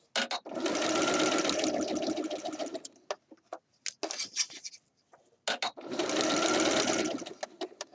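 Sewing machine stitching the cuff of a Simplicity 8014 shirt dress, running in two long steady bursts separated by a stretch of short clicks and handling noises, close and fairly loud.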